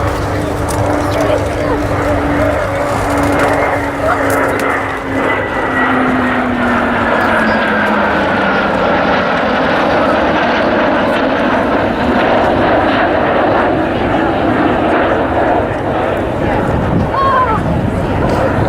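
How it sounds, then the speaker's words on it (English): A Canberra PR9 jet flies at an RAF Waddington air display, giving a loud, continuous roar that sweeps in pitch as it passes, with a commentator talking over the PA throughout. "The aircraft will go out ahead of us on what we call the B-axis, away in front of us, and come back in."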